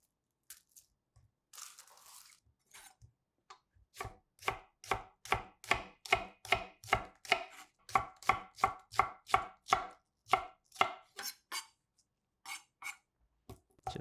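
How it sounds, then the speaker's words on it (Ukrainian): An onion is chopped with a knife on a board: a few scattered taps, then a fast, even run of about twenty crisp, close chops before the strokes trail off into silence. "Почистіть та наріжте цибулю."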